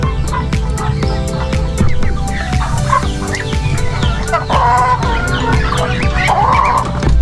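Several gamecock chickens cluck and call close by in a busy yard, with overlapping bursts and chatter continuing steadily throughout.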